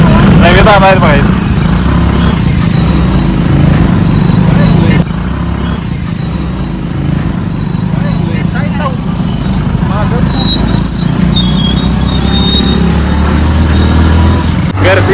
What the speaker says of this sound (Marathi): ट्रॅफिक बघा केवढा आहे.